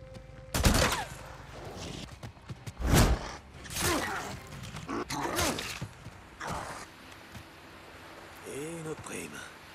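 In the video game Days Gone, an SMP9 submachine gun fires in a few loud, sharp bursts spread across the clip. Mechanical clicks and creaks come between the bursts, and a voice talks underneath.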